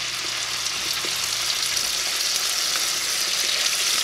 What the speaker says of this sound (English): You can kind of hear it sizzle. We're going to put our chicken breast in.